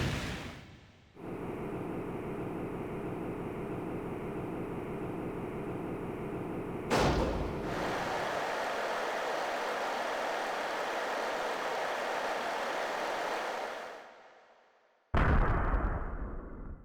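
Deep, sustained rumbling of distant explosions shaking the ground in the Legend of Legaia game, a steady low roar that swells, cuts off abruptly, returns, fades out, then bursts back in at the end.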